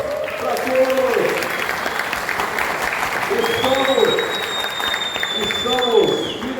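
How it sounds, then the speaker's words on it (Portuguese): Applause from a talk-show audience carries on steadily and moderately loud under rhythmic tonal sounds, with a whistle-like tone in the second half. "Salve de palmas para todos!"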